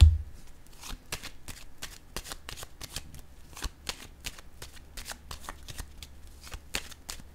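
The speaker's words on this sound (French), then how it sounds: "Je vais déposer une autre carte." Tarot cards being shuffled and set down, a steady series of crisp riffling flicks and light taps close up, quiet but distinct, continuing throughout without speech.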